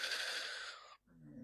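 Bella snores softly in the background of a quiet room: one long, wheezy, raspy inhalation, a brief silent gap, then the start of a lower, softer breath.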